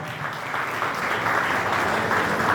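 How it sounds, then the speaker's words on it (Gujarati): Applause from an audience at a community appreciation event in Valsad, a dense steady patter of many hands clapping that holds strong and even throughout. "તાળીઓનો ગડગડાટ"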